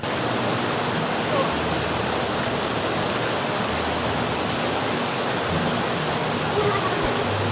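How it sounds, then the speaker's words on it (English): Fresh stream water rushes near a waterfall in a border crossing region of Africa, a loud, unbroken close-up roar filling the whole stretch with no talking. "we've decided to come down because it's running fresh water"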